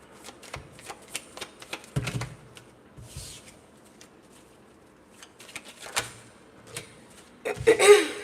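Playing cards shuffled and dealt at a table, with rapid riffling clicks and scattered snaps in uneven bursts, a louder flurry near the end.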